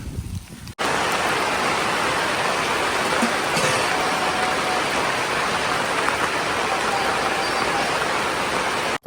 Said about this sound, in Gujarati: વરસાદ ચાલુ થઈ ગયો છે પવનનો વરસાદ